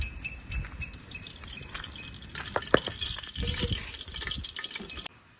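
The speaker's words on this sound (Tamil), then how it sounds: "நல்லா சூடாயிடுச்சு எண்ணெயை ஊற்றிக்கிறேன்" Cooking oil hits a very hot pan on a double burner for biryani and crackles and sizzles, with scattered sputtering pops and a steady frying hiss that ends suddenly.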